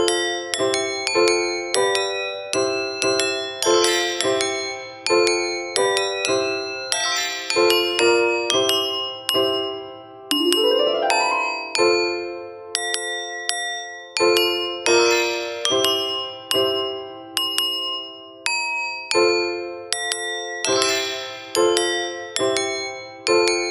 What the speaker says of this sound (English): click these jingle bells in the order they light up